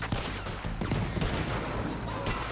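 Bursts of rapid gunfire crack through a Red Dead Redemption 2 shootout, loud overlapping volleys with sharp transients and a constant noisy action backdrop.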